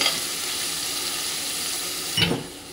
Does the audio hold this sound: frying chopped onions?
yes